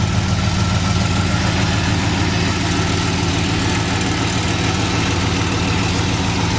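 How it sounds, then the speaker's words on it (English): A 1970 Chevy Monte Carlo with a 350 V8 idles close by, a loud, steady low rumble with an even rhythmic pulse and no talk over it. "This is a 1970 Chevy Monte Carlo, powered by its 350 V8 engine."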